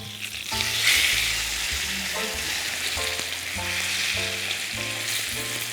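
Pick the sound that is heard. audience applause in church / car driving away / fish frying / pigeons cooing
fish frying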